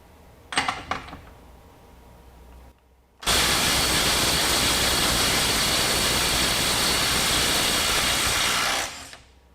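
A DeWalt DCF923 Atomic impact wrench on a PowerStack battery gives a few short bursts, then hammers continuously for about five seconds, loud and close, before stopping.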